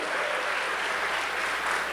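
A church congregation claps together in sustained, dense applause, a steady wash of hand claps filling the whole moment without pause.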